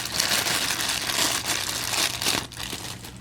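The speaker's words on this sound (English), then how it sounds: "It's in this plastic bag in this little case." A plastic bag holding an auxiliary telephoto lens for a Minolta Talker camera crinkles loudly and close up in steady rustling bursts as it is handled, with no talk.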